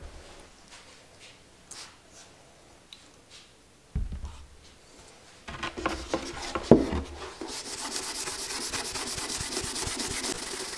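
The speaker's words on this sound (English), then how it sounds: "Now I'll wipe this a little heavier than I would like a body panel, because you want it to get into the wood grain" A guitar body is rubbed down with wax and grease remover, starting as faint intermittent rubbing and then turning into steady, louder scrubbing strokes over the final few seconds.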